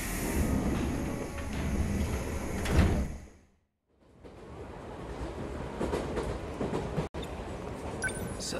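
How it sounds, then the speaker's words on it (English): Train pulling into a station in the game 13 Sentinels: Aegis Rim, heavy rumbling and clatter ending with a hiss, a short silence, then the rolling rattle of rail cars and sliding doors close by. "Looks like my train's here."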